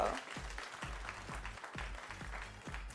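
Audience applause at the Teen Miss Earth USA pageant in Las Vegas, a steady wash of clapping that stays dense and fairly loud for the whole stretch, with a low rhythmic thump pulsing underneath.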